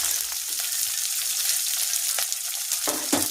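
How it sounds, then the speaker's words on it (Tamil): Onion and green chili fry in a pan for snake gourd poriyal, giving a bright, close, steady sizzle with occasional stirring scrapes and no talk over it. "வெங்காயம் பச்சை மிளகாய் நல்லா பொன்னிறமாக வதங்கிடுச்சு"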